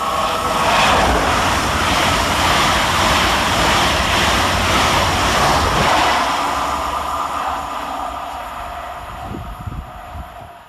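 Trains rush through Longniddry railway station in Scotland, with electric units of Class 385 and 801 in passenger service. A loud, close roar of wheels and motors holds steady, then gradually fades as the trains pass and recede.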